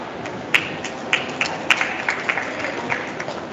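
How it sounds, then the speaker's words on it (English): Conference audience applause, a fairly faint, sparse spatter of handclaps with a few sharper individual claps standing out. "Let's clap for them properly"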